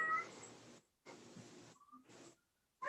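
Kitten meowing in a judge's meeting room, giving three loud, close drawn-out meows separated by short pauses, with no talk.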